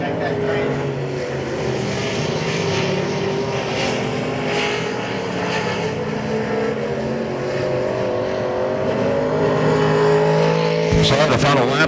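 Race car engines roar steadily around Hagerstown Speedway, a continuous loud, layered drone of several cars at speed with no break across the whole stretch.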